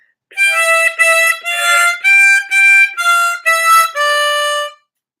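A harmonica plays a short melody of about eight clear, separate notes, bright and reedy, alone with silence around it.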